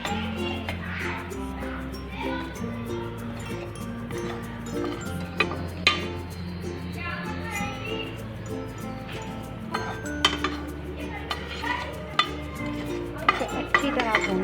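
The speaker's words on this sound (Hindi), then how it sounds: "इन तीनों चीज़ों को फ्राई पैन में डाल के भून लेते हैं।" Cumin, coriander seeds and ajwain dry-roast in a frying pan, a utensil repeatedly clinking and scraping against the metal in steady stirring strokes over a continuous low background hum.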